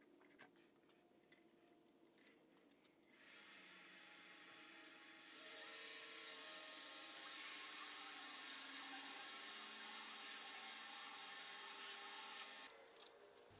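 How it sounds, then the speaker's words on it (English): A belt grinder set in the horizontal position, heard after some quiet handling noises as a motor whine that starts up and builds into a loud, steady high-pitched rush of the running belt before cutting off. "I'm trying the belt grinder out here in the horizontal position."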